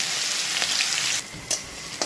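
Steady, dense sizzling of chilli, garlic and ginger frying in hot oil, close and continuous, with a couple of brief sharper bursts as ingredients are stirred.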